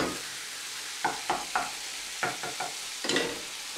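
Veal sizzles steadily in a hot pan while a utensil scrapes and clacks several times as the meat is turned, close by with no talk.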